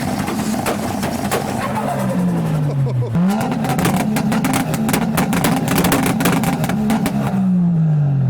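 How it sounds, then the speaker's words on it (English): A turbocharged car engine revs loudly and repeatedly at a car meet, pitch rising and falling with each throttle blip, amid crowd noise and people talking nearby. "boosted barge is revving"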